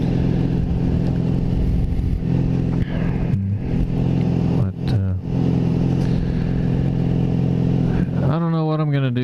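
Motorcycle fitted with an aftermarket exhaust, riding at night, a loud continuous engine drone with shifting pitch and a rising rev near the end, a voice talking over it.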